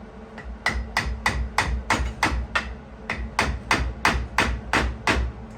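An old, beat-up screwdriver is driven through a split piece of wood with a hammer while building a collapsible GoBar deck. About a dozen sharp, evenly spaced strikes ring out close and loud, with no talking.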